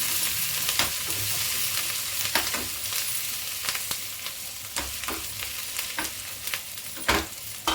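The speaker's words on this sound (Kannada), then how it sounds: "ಈಗ ಇದನ್ನು ಸ್ವಲ್ಪ ಫ್ರೈ ಮಾಡ್ಕೊಳ್ಳಿ." Ginger sizzles steadily in a pan along with cashews, and a spoon scrapes and taps the pan at irregular intervals, close and clear, with no talking.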